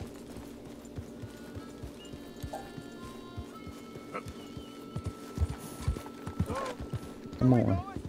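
Horse hooves clip-clopping in the Red Dead Redemption 2 video game, a steady rhythmic trot of hoofbeats near and moderately loud, with a brief whinny and scattered game sounds toward the end.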